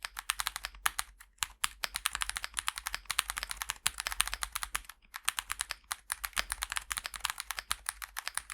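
Rapid, steady typing on a custom mechanical keyboard fitted with Gazoo Boba U4 0X switches, each keystroke a crisp, close clack in a dense, continuous rhythm with a few brief pauses.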